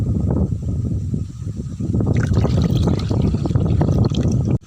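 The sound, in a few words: water filling a bird water trough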